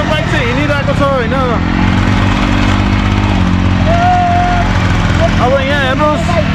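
A motorcycle engine runs steadily and loudly on a snowy road during heavy snowfall, a continuous low rumble throughout, with someone talking over it.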